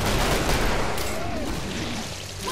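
Rapid gunfire from dual hand cannons in the Killing Floor video game, a dense burst of sharp shots at the start that thins out and trails off, heard loud and close amid game noise.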